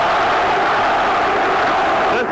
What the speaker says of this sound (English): Listen to the crowd chanting for Tony.